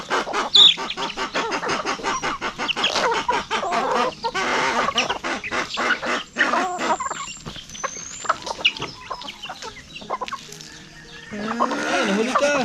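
Rhode Island chickens cluck and call through the whole stretch, a busy flock close by on a farm, with someone talking over them now and then.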